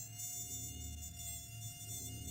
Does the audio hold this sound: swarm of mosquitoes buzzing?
yes